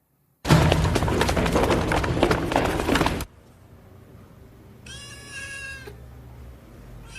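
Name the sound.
kitten meowing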